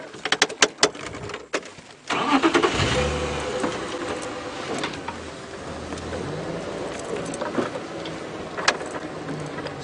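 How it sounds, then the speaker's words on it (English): A safari vehicle creeps forward a short distance, its engine starting with a low rumble after a few sharp knocks and clicks, then idling and rolling steadily at moderate loudness. "I can just move the car slightly"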